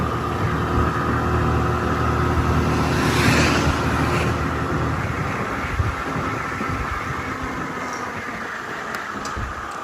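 A two-wheeler riding at night through dense forest in Sathyamangalam, with a continuous rumbling engine and wind roar that swells slightly and then holds steady, up close and without talk.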